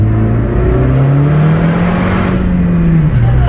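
A 10th gen car's engine revs loudly and steadily close by after a spark plug change, its pitch climbing and holding before dipping near the end.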